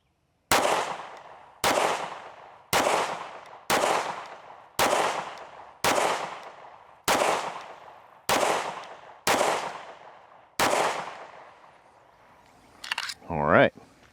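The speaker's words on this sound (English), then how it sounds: "shooting 10-shot groups from the 7-yard line" Daniel Defense H9 pistol firing AAC 115 grain ammunition in a 10-shot group from 7 yards: ten sharp, evenly spaced reports about a second apart, each ringing briefly, then a short scrape of noise.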